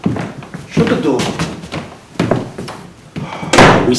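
A door slams shut indoors with a sharp thud, heard among people talking in a tense room.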